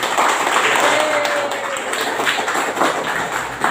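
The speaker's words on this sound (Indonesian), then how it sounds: "Kita beri aplaus dulu." A classroom group in a school gives applause, a steady wash of clapping hands lasting several seconds, fairly loud and close, with faint chatter underneath.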